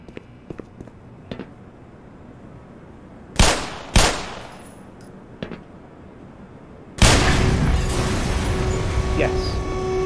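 Gunfire in the video game Black Mesa: a few sharp, loud shots ring out, then sustained loud firing fills the final seconds.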